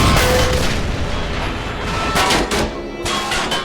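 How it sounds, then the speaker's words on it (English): Explosions and artillery fire in the video game The Toy War boom in dense, overlapping bursts, loud and continuous, with several sharper blasts standing out. "Oh my god, look at that explosion."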